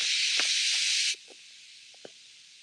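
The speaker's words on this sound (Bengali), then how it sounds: "এটা হচ্ছে সিটি দিচ্ছে" Pressure cooker whistle: a loud, steady high-pitched hissing blast for about a second that cuts off abruptly, leaving faint room noise and a few small clicks.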